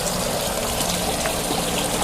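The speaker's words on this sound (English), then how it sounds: "I just drilled holes in it until I got the right amount of water that I wanted to kind of cascade over" Water trickles steadily over a birdbath fountain with holes drilled through it, a continuous soft splashing and dribbling with no pauses, moderately close and alone.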